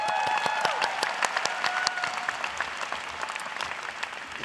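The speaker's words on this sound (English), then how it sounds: "I want everyone to give these incredible people a huge round of applause" Graduation ceremony audience applauding in a full, sustained round of clapping, loud at first and gradually thinning, with no speech over it.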